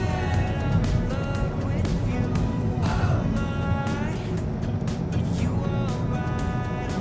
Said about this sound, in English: Here's another one coming up on my right to overtake me